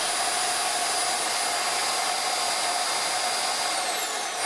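An InterVac CSRM central vacuum system in an RV running steadily, a loud, close, continuous airy roar with a high whine, no talking.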